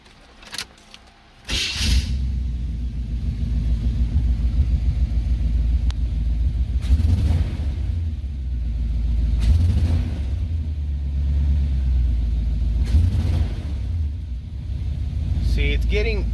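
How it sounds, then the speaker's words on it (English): A car engine with a bogging and hesitation fault cranks and starts, then runs at wide open throttle with a loud, heavy low rumble that swells and sags unevenly in several surges, heard close from inside the car. "I'm gonna start it up and I'm gonna pretty much step on the gas"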